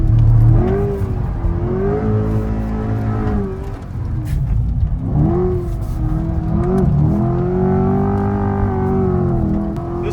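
A Corvette C8 sports car engine revs and accelerates hard, its pitch climbing through several gear changes over a steady, loud roar.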